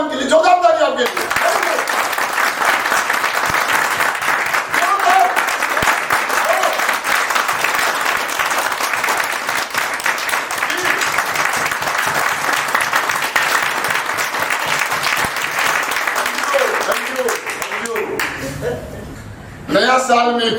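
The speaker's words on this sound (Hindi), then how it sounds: "नया उमंग के लिए जोरदार तालियां आपके लिए" A seminar audience breaks into loud, sustained applause for about eighteen seconds, dense clapping with a few laughs, before a voice briefly speaks at the end.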